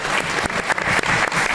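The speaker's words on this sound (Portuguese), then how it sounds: "vamos dar uma salva de palmas para ela." Applause in a legislative chamber during an extraordinary council session, dense clapping from a group of colleagues, loud and close, continuing steadily for the full moment without talk.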